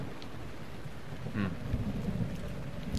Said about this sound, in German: Solange Regen und Blitzgewitter herrscht.